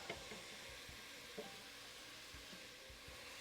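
Onions frying in a pot while chili is being cooked, a faint steady sizzle with a few soft low knocks from stirring, quiet and continuous with no talking.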